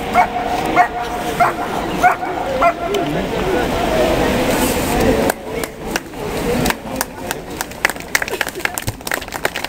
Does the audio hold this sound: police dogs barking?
yes